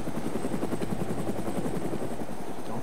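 A DayZ helicopter running low on fuel in flight, its rotor thumping in a steady rapid chop with a constant engine whine, loud and close throughout with no talk.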